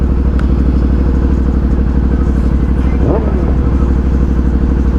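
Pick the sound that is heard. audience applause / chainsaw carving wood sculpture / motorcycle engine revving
motorcycle engine revving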